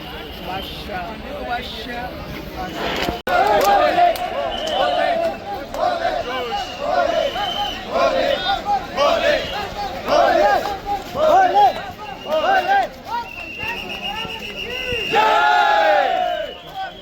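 Dense crowd noise from a packed boarding line for Amarnath Yatra buses at Pahalgam, with loud overlapping shouts, chants and babble that swell and surge continuously, close and busy throughout.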